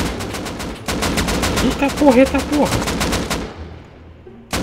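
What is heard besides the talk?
gunfire in Rust video game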